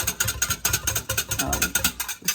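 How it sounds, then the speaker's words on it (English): Milk and yogurt are whisked together in a fast, even rhythm of close, clicking strokes. "Whisk really well, because you want to mix that yogurt."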